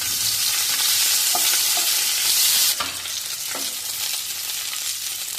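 Chopped onions frying in a pan give a loud, dense sizzle that eases a little partway through, with occasional scraping stirs and no talking.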